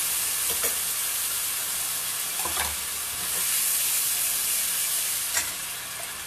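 A soy sauce, sugar and sesame oil mix sizzling hard in a pan with pork for spicy miso ramen, a loud steady fry with a few stirring scrapes, close and with no speech.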